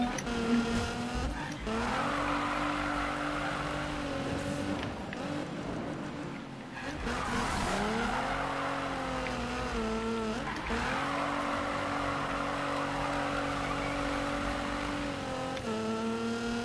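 Car engine revving and surging in the Need for Speed racing game, rising and falling pitch sweeps with tire squeal, loud and continuous for the whole stretch.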